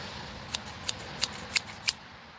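A pair of scissors snips about seven times in a quick, uneven run of crisp, close cuts, with no talking.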